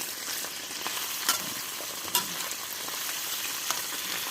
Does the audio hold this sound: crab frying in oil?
yes